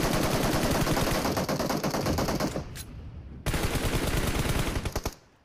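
An M4 rifle fires in rapid automatic bursts in the PUBG Mobile video game, with a short pause mid-clip before a second loud, sustained burst that cuts off abruptly.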